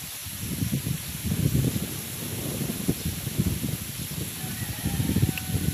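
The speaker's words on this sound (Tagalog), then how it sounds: "Grabe yung hangin." Strong storm wind gusts and roars around the microphone in surging, rustling bursts. The sound holds steady throughout, with no talking.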